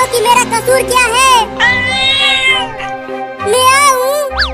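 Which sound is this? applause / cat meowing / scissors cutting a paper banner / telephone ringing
cat meowing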